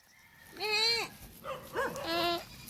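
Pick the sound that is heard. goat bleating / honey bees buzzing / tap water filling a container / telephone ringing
goat bleating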